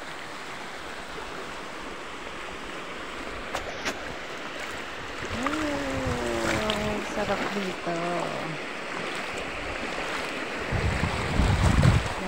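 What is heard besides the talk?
sea waves at the beach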